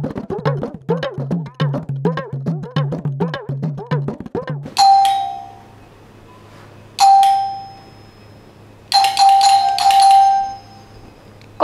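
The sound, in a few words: doorbell ringing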